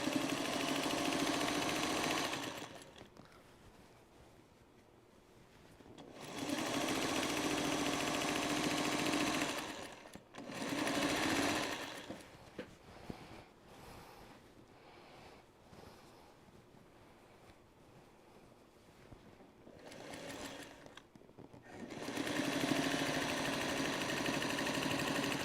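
A home sewing machine binds a quilt in long bursts of steady whirring, stopping and restarting several times with quiet pauses between runs, close and moderately loud, with no talk.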